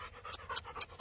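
Dog panting on an outdoor pack walk, quick rhythmic breathy huffs close to the microphone, about four pants in a second, with no voices.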